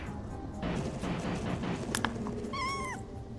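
A cat in PowerWash Simulator 2 meows loudly near the end, a rising-falling yowl heard over steady in-game background noise, preceded by a couple of sharp knocks.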